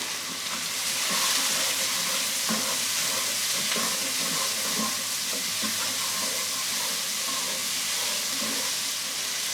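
Onions frying in a pan, stirred now and then with a wooden utensil, give a steady close sizzle with soft scraping strokes and light knocks throughout, and no one speaks.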